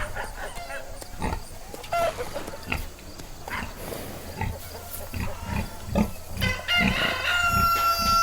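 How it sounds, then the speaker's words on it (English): A pig grunts and oinks in a run of short, rhythmic snorts close by, with clucking chickens and a rooster crow at the end. "pig"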